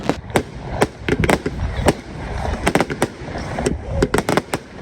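Rapid, loud fireworks bangs crackle irregularly, some in quick clusters, with a faint voice briefly in the background.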